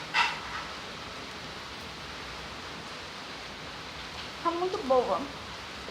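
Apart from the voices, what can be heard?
rain falling outdoors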